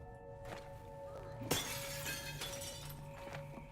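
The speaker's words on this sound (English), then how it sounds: "broken glass stock sound effect number 5." Glass shatters in a sharp crash followed by tinkling fragments, a stock sound effect inside a video game, heard over a steady tonal game background.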